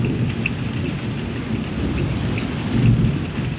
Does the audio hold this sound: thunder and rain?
yes